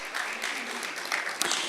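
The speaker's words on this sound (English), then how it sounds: "Let's give him a warm round of applause as he comes to the" A conference audience applauds as a speaker comes to the stage, giving a short, steady wash of clapping that sounds moderately distant.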